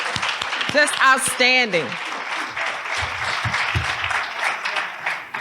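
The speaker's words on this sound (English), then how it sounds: "Can we just give them another round of applause?" An audience applauds panelists at an event, starting with a voice speaking briefly, then full, sustained clapping from many hands that carries through to the end.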